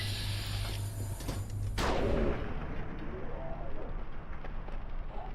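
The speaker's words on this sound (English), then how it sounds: "was a big explosion" Explosion and gunfire in Fallout 3: a loud blast erupts after a rumbling low hum, followed by a sustained crackling wash of gunfire and debris that slowly settles, with no talk.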